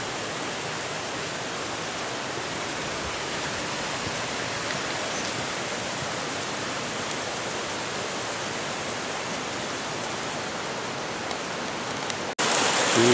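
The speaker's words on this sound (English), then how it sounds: "It's Ivan Thomas Creek, close to its spring." A mountain creek near its spring rushes steadily over rocks, a dense, even wash of water that stays loud and close throughout, with a brief knock near the end.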